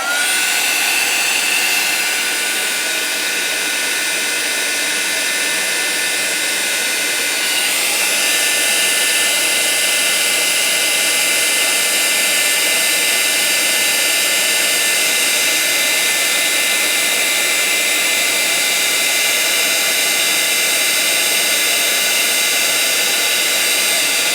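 A heat tool melting Tim Holtz embossing powder blows a loud, continuous, close hiss with a steady whine, unbroken from start to finish with no talk.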